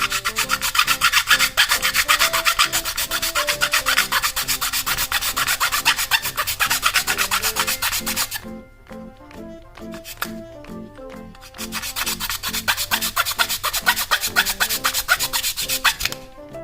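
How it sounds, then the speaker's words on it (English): A hand file rasps back and forth during a BBK throttle body install on a Jeep TJ, giving steady, close scraping strokes with a short lull in the middle before the filing resumes. "And let's start filing."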